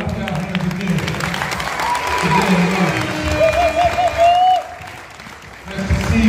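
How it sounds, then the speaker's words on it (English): Audience clapping at a memorial service for John Roberts Sr., a dense patter of applause running through the clip with voices and singing-like tones over it, swelling and dipping in loudness. "Clap your hands again."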